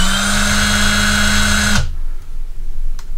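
A Milwaukee M18 Fuel 1/4-inch impact driver runs at its lowest speed setting, giving a loud, steady, close motor whine that cuts off abruptly partway through, leaving quiet room tone.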